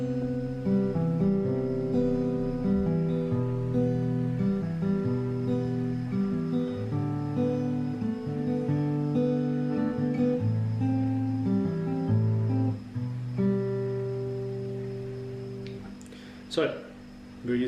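Acoustic guitar plays a chord progression from a pop song in a steady, close strummed pattern for most of the passage, then drops to a softer ringing chord near the end with a brief noise.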